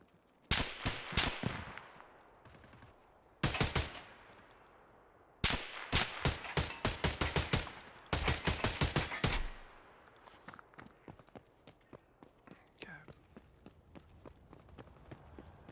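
Bursts of automatic gunfire in Escape from Tarkov, several rapid volleys of sharp, loud shots separated by short pauses, followed by fainter scattered shots and footsteps trailing off.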